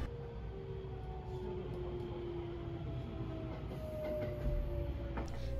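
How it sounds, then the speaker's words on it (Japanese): A JR Kobe Line local train runs on an elevated track and passes a rapid train while arriving at Sumiyoshi station, with a steady rumble, rolling wheel noise and a falling drawn-out tone, all fairly faint. "快速電車とすれ違いまして住吉駅に到着です"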